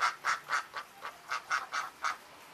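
A large-bodied duck quacks in a loud, brassy series of about nine evenly spaced calls, close and clear with no talking over it.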